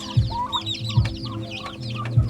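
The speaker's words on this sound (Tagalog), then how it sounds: "chicken. Manok." Several chickens cluck close by, soft repeated low clucks mixed with higher chirping calls from a small flock.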